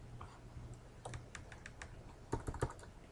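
Typing code on a computer keyboard: quiet, irregular key clicks, sparse at first then a quicker burst of several keystrokes toward the end, close and alone without talk.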